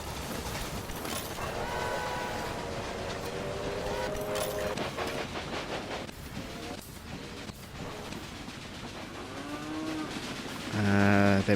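Train running in the video game Railway Empire, a continuous rumbling rail sound with clacking and a rising horn-like tone toward the end, with no talk.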